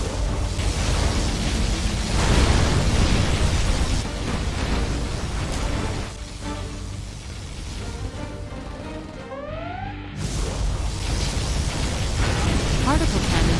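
Heavy bursts and explosive blasts from a particle cannon and other weapons in Command & Conquer Generals Zero Hour, with mechanical whirs and rising electronic tones, loud and dense throughout.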